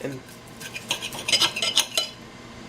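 Fried vegan seitan jerk chicken being cut with cutlery on a plate, giving a handful of close, light metallic scrapes and clinks.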